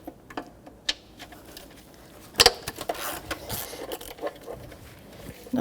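A ratchet wrench works on a car bolt during knock sensor replacement on a 2014-2019 Toyota Corolla 1.8L four-cylinder, giving quick irregular clicks and rattles close by with a sharper metallic crack midway.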